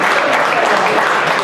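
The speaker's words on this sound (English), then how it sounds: "Give a huge round of applause for them." Applause from the audience at a closing keynote event as the event crew is invited onto the stage, a dense, steady clatter of clapping filling the short moment loudly and continuously.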